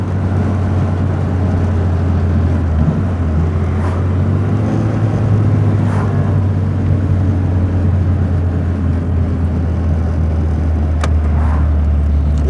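A 1950s MG Magnette ZB sport saloon is on the move, its steady engine drone and road rumble loud and continuous throughout, with no voices over it.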